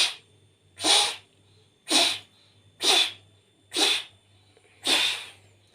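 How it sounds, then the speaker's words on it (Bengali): Six sharp, evenly spaced bursts of air are forced out through pursed lips in pranayama breathing, each a loud, breathy puff separated by about a second of near silence. "এবার আমরা ধীরে ধীরে শ্বাসটাকে জোরের সঙ্গে ছাড়বো ভেঙে ভেঙে।"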